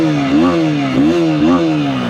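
A KTM Duke 160 motorcycle engine just started, idling loud and close with a steady throbbing exhaust note that swells in gentle, rhythmic revs about every half second.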